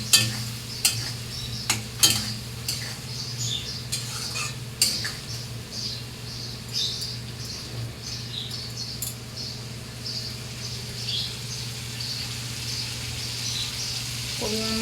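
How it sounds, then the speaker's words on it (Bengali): Spice masala with a spoonful of cumin powder stirred in a pan while cooking a Bengali yam and taro curry, with a few sharp utensil scrapes and clinks early on over a steady low sizzle, no talk. "দিয়ে মশলাটাকে নাড়ব।"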